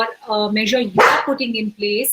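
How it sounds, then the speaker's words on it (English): A pet dog barks several times at close range, sharp loud yelps mixed in with a person talking during an online panel discussion. "Apologies for my dog."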